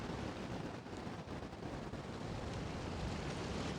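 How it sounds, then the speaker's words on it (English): Strong icy wind buffets the microphone without letup at a garden lookout in Queenstown, New Zealand, a loud, dense roar of rumbling gusts and noise with no voices. "Very windy."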